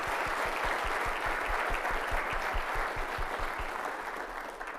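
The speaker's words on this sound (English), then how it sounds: "Please join me in a round of applause." Audience applause at a climate summit closing address, dense steady clapping from a large crowd, loud and continuous, fading slightly at the end.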